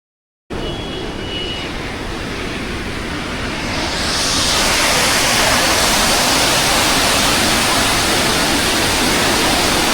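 Heavy monsoon rain pours beside the Kangsabati dam and river at Mukutmanipur, a loud, steady broadband roar that swells over the first few seconds and then holds constant with no voices.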